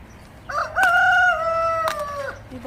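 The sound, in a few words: chickens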